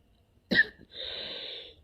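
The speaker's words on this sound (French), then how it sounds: "Excusez-moi pour la toux" A single sharp, close cough from a hoarse-voiced speaker, followed by a brief breathy rasp that trails off.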